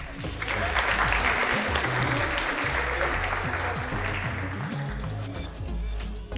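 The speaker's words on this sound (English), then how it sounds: "Give a round of applause, please." Audience applause at a graphics showcase demo event, a dense, steady wash of many hands clapping close and loud for the full stretch, with some voices mixed in and fading slightly at the end.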